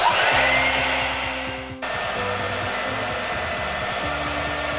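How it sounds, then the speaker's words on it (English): A heat gun and a hairdryer blowing together, a loud steady whooshing roar with motor hum that dips briefly midway and then continues at full strength. "We're gonna use a heat gun and Rachel's hairdryer to test our install."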